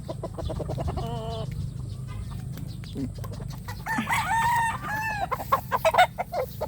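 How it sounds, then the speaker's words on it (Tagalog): Hens cluck in short repeated bursts while a rooster crows loudly nearby, its drawn-out call rising and falling over the steady clucking, during a quiet power outage. "Mga bagong ligo ang manok ni Adjus."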